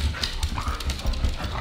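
Panting and whimpering from a dog kept in a kennel while its owner is away, a close, steady run of short breathy puffs with faint whines mixed in and no talking.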